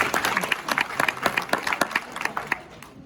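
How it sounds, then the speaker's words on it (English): An audience at a medical lecture on cancer gives a short round of applause, a dense, moderately loud patter of many hands clapping steadily for a few seconds. "let's have a round of applause for no reason"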